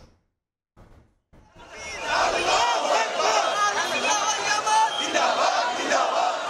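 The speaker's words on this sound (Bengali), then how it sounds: "নারায়ে রিসালাত, ইয়া রাসূলুল্লাহ, আল্লাহু আকবার স্লোগানে মুখর চারদিক" A dense crowd at an Eid-e-Miladunnabi procession chants religious slogans loudly and in unison. The roar swells in after a couple of brief faint sounds and near-silence, then holds steady and full.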